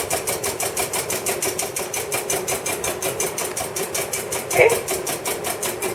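Egg whites are whisked to a froth in a fast, steady rhythmic patter of the whisk against the bowl, continuous throughout, with a single brief spoken word partway through.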